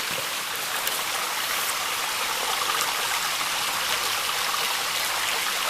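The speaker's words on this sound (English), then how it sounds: "Here you have a waterfall. It's beautiful, and the rocks and how it flows down through here." A waterfall flows over rocks, a steady broadband rush of water without pause, close and moderately loud, with no voices.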